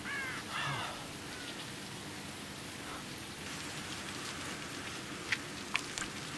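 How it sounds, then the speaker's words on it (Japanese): Steady, dense rain of blood pours down in the survival horror game SIREN: New Translation, an even hiss filling the scene with a brief call near the start and a few sharp drips late on. "血の雨"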